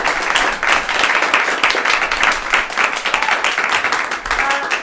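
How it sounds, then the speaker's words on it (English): An audience at a weekend-long improv comedy marathon breaks into sustained, dense applause and clapping that fills the room evenly for several seconds. "a big round of applause to the volunteers, the tech team, everyone that has made this weekend happen"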